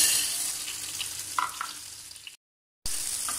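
Wheat dry-roasting in a wide pan for health mix powder, a steady hissing crackle with a few light stirring clicks, cut by a short gap of silence before resuming.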